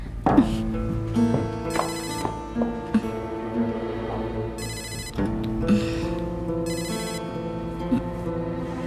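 A telephone rings in a TV drama scene: repeated bell-like bursts of ringing sound close and fairly loud over a musical background.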